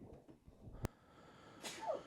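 A single sharp sneeze bursts out suddenly, close and loud, followed by faint breathy noise and a quieter hissing exhale.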